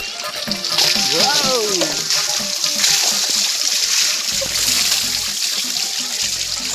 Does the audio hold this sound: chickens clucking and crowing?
no